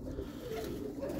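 Roller pigeons being thrown up to fly, with soft cooing and low bird sounds running steadily throughout under a continuous outdoor background.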